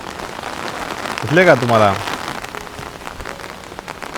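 A steady downpour drums on surfaces in a Konkan village, loud and continuous from start to finish, while a person speaks briefly over the rain partway through.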